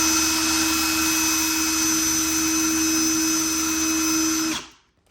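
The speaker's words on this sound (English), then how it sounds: "Once you stick it into the drill, you can just grab that," A power drill spins an ARRMA Kraton 6s RC car arm while fine sandpaper cleans rust and grime off it, giving a steady, loud whine that runs continuously, then winds down and stops near the end.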